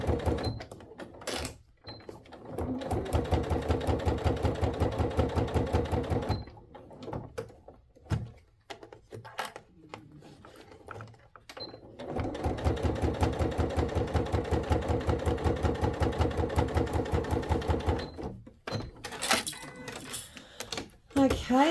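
A sewing machine with a Teflon foot top stitches faux leather for an iPad bag at a long stitch length, running in two sustained bursts of rapid needle thumping with pauses between them, under occasional talk.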